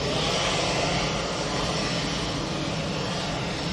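An EasyJet jet airliner departs Manchester Airport, a loud, steady roar of engine noise filling the short stretch without any voices.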